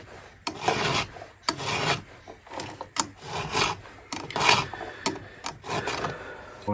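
A hand file sharpens the cutter teeth of a saw chain with steady rhythmic rasping strokes, about one a second, close and fairly loud, with no voice over them.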